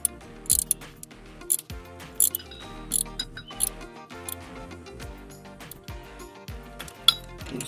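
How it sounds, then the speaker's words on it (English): A ratchet wrench turns on a cylinder head bolt of a Chrysler 3.5 L engine, making repeated close clicking bursts in uneven strokes with metallic ticks between. "just get this wrench on here"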